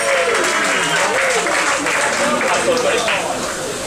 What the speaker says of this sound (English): Give a huge round of applause. A rapturous ovation for Tom.